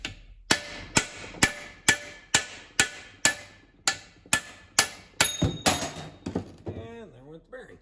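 A hammer strikes a socket to drive out an old PTO bearing race during an Allis-Chalmers B tractor transmission teardown, about a dozen sharp metallic blows in a steady rhythm, close and loud, then quicker scraping clatter at the end.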